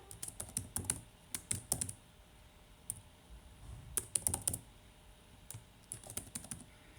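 Typing on a computer keyboard while entering a product code, irregular bursts of quick, light key clicks with short pauses between them, close and quiet.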